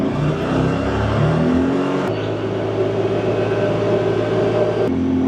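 A Polaris BigHorn 1000 APEX side-by-side runs fast on blacktop, its engine droning loud and steady with rising revs and gear changes, under constant road and wind noise.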